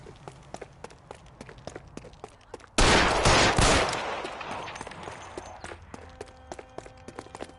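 Gunfire in the PS5 game L.A. Noire: after a run of footsteps and light ticks, a sudden loud burst of rapid shots erupts and rings out, then fades back to steady footfalls.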